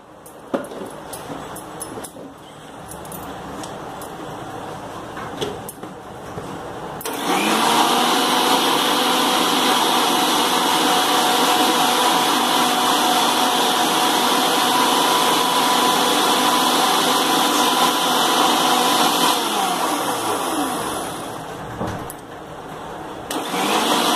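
A mixer blender whirs loudly through pulses as it churns milk cream to separate the butter, a sustained motor roar after a few shorter bursts, then winding down near the end with no talk.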